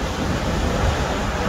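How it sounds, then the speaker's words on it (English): Ocean waves roll in at Little Whale Cove on the Oregon coast, a dense, continuous roar of surf that stays loud and steady throughout, with no talking. "I'm getting all that, those waves coming in right now"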